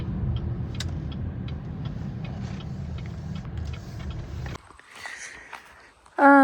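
A car rolls along a rural village road past freshly mown fields, a steady low engine rumble and tyre noise that fades as it comes to a stop, followed by quieter handling sounds.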